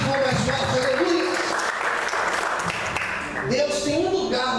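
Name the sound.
congregation applauding in church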